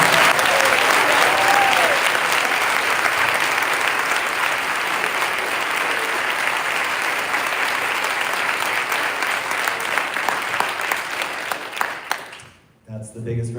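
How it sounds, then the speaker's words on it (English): A town hall audience meeting with a state representative breaks into long, steady applause, dense and loud throughout, then tapers off abruptly near the end with a few stray claps. "That's the biggest round of applause I'll ever receive for being able to use the bathroom."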